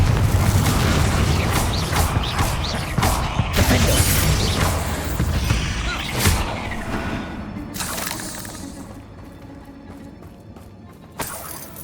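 A Confringo fire spell in Hogwarts Legacy bursts in a series of loud, booming, crashing blasts. The heavy explosions come one after another and fade gradually over about ten seconds, with no talking.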